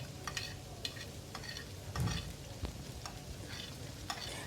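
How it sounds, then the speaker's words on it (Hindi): Chopped onion and garlic fry over a medium flame, with a soft steady sizzle broken by scattered clicks and stirring taps of a utensil against the pan. "मीडियम ऑन के फ्लेम के ऊपर मैं प्याज और लहसुन दोनों को फ्राई कर रही हूँ"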